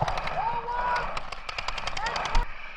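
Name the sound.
paintball gun shooting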